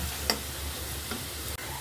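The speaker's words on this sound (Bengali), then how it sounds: "পেঁয়াজটা লাল লাল করে ভাজা ভাজা হয়ে আসছে।" Onions frying to a reddish brown in a hot pan with garam masala sizzle steadily, with a few soft clicks of stirring over the hiss. No one speaks.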